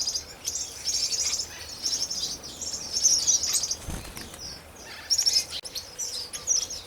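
Strawberry finches chirp and tweet near a nest high in an aviary, with busy overlapping high calls, brief wing flutters and a short pause midway.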